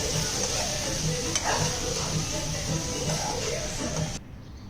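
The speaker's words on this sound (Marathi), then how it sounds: "आता छान असं सगळं परतून घ्यायचं, शिजवून घ्यायचं ते." Chopped tomatoes sautéing in a pan for malai kofta gravy, a close, steady sizzle with soft rhythmic stirring strokes that cuts out abruptly near the end.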